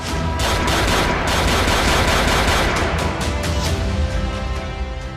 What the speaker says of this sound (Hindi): दोनों कारों से 7 युवक उतरते हैं और ताबड़तोड़ फायरिंग करने लगते हैं।